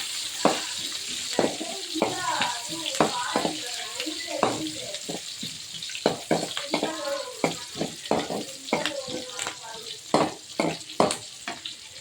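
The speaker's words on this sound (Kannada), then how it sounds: "ಈರುಳ್ಳಿ ಸ್ವಲ್ಪ ಆಗೋವರೆಗೂ ಹುರಿಬೇಕು." Onions fry in oil in a pan for a chicken palak gravy, a steady sizzle broken by frequent clattering stirs and scrapes, close and moderately loud.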